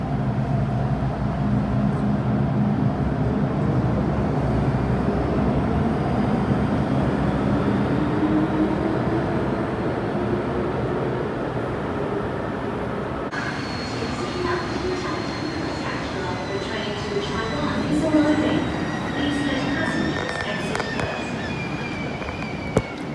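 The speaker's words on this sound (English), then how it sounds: "Should be a Q train coming in." A Q subway train pulls into Tin Hau station, a steady rumbling roar that shifts midway into brighter metallic rail squeal and screech as the cars come in close, with faint talk in the background.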